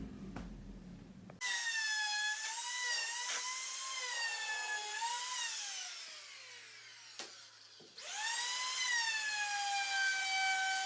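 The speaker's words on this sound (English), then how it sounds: "So I'm going to take the belt sander and sand that smooth." A belt sander smooths a part of a homemade Urban supercharger with a high, whining drone. The pitch bends as the workpiece is pressed, and the sander stops and restarts midway.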